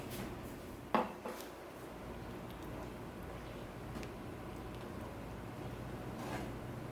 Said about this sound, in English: we're going to stir that all up here